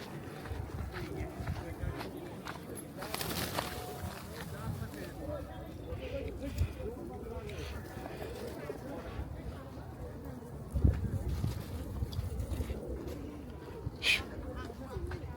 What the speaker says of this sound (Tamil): புறாக்கள் போமா, புறாக்கள் மெஞ்சிட்ருக்கு.